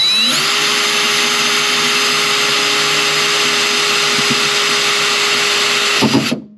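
A power drill runs steadily for about six seconds as it bores holes through the trunk lid of a Cobra, fitted for a Saleen-style wing. It whines loud and close, then cuts off sharply near the end.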